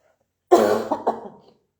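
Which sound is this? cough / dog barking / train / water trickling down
cough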